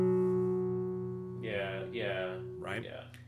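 Overlapping bass notes on a classical guitar ring and blend, sustaining and slowly decaying for over a second before a voice starts talking over the fading tones.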